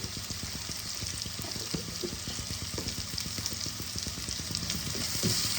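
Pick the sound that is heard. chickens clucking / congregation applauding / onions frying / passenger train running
onions frying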